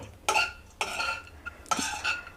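Dried coconut being stirred in a hot pan, with three separate bursts of scraping and clinking from a utensil against the metal, each lasting about half a second, close and fairly quiet, with no talking.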